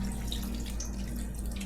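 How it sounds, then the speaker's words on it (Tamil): Water pours steadily into a cooking pot for a country-chicken and ragi kali dish, a constant close splashing rush over a faint low hum, with no talking. "தண்ணி நிறைய ஊற்றிடுவோம்."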